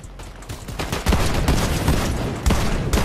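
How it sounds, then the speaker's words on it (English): Rapid bursts of submachine gunfire from a Harbinger SMG in Fortnite, loud and close, firing in quick repeated volleys with heavy punchy reports throughout. "Iron Warrior Harbinger SMG."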